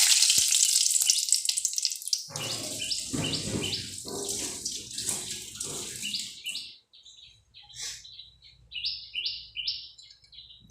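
Whole spices, bay leaf first, crackle and sizzle as they drop into hot oil left from frying, for a Bengali banana-flower curry; bright popping and spitting runs steadily, loudest early and then in sharper separate bursts.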